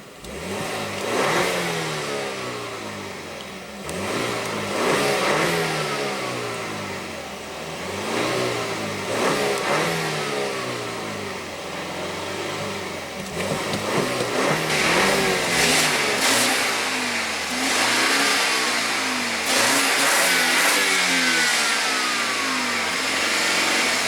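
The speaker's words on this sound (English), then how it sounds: "And let's go ahead and rev it up." A 2016 BMW X3 with a 2.0 L turbocharged four-cylinder engine revs repeatedly, its pitch climbing and falling in several loud, close bursts over a steady idle, with no talking.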